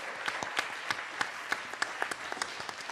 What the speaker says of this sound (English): We're going to have a one round big of applause for our mayors and our banker.